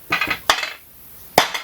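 Hammer tapping through a block of wood to seat a part on a BMW 530d N57 engine during timing chain replacement; several sharp, close knocks come in a short uneven cluster and then one more strike after a pause.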